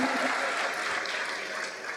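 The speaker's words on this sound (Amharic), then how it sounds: "እስቲ ከፍ ያለ እልልታና ጭብጨባ" A church congregation applauds steadily and loudly, a dense wash of clapping from many hands that holds for the whole moment.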